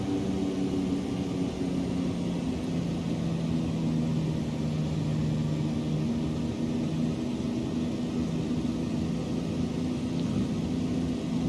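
A Supermarine Spitfire Mk1a engine in Microsoft Flight Simulator drones on in a steady, loud, continuous low hum with no breaks.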